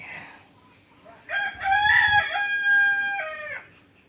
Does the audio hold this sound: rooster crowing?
yes